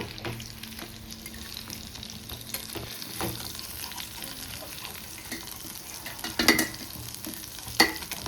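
Chicken cafreal fries in a pan while being stirred, a low sizzle with scraping and clinks of the spoon, faint and close, with a couple of sharper knocks near the end.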